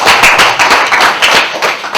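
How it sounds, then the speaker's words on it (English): A group claps for Daniel at close range, loud, quick irregular claps in a steady burst with no talk over them. "Let's clap for Daniel."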